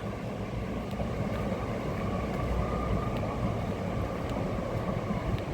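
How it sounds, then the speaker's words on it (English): A continuous heavy rumble and rattle of a train crossing a railway bridge over a canal, steady and fairly close, with faint metallic clicks over the roar. "Train going over the bridge."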